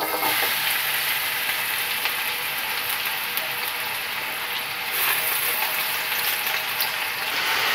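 Chopped onions fry in a pan of hot oil for Pakistani mutton yakhni pulao, giving a steady, loud broadband sizzle that holds without pause from start to finish, with no voices.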